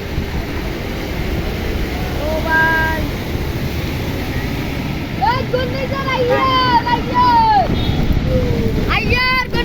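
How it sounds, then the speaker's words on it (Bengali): Strong Cyclone Remal wind roars steadily and loudly, buffeting close by with a constant heavy rush, while tonal whistling or horn-like sounds rise above it in the second half. "বাতাসের বেগ এতই বেশি যেটা আপনারা দেখতে পাচ্ছেন"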